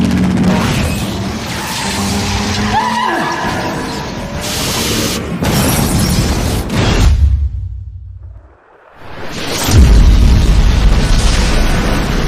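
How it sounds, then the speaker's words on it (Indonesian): A demonic car blows up in a film scene with a heavy roar, whooshes and booming blasts, then a brief near-silence before another loud explosive burst. "si tangkurak mobil iblis itu akhirnya meledak dan hancur"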